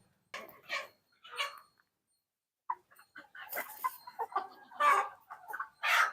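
A free-range village rooster with coryza respiratory disease clucks in short, separate bursts, growing busier and louder toward the end, with no talking.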